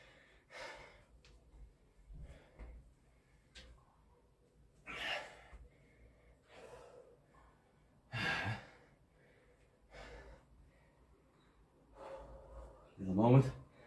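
Heavy, gasping breaths and sighs come in spaced bursts after a set of barbell squats and pull-ups, close and fairly quiet, with the exertion sounds standing alone between pauses.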